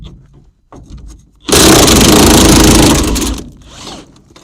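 Loud burst of a power tool, likely an impact wrench, driving bolts out of an abandoned Chevy S10, roaring steadily for about two seconds between quieter clanks and handling noises.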